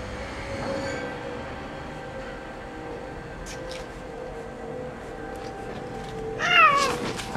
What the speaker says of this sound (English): Look, the black cat.